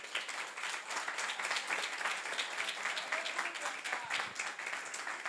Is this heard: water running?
no